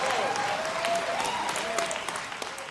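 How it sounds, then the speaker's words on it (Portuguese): Audience at a sermon applauding, a dense wash of clapping with scattered cheers and a voice speaking over it, fading slightly toward the end. "Eu aplaudo vocês."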